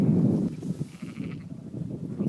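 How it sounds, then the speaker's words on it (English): Sheep bleat on an outdoor hillside slope, low wavering calls rising over steady wind noise for a couple of seconds. "the sheep are bleating at me"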